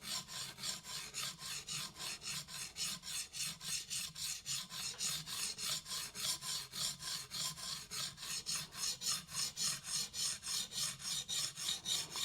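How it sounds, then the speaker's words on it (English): A kitchen knife drawn over the stone of a fixed angle sharpening system, rhythmic rasping strokes repeating about four times a second, close and steady throughout. "it is probably a boring watch to watch a knife get sharpened, but it is a very easy, controlled process using a fixed angle system"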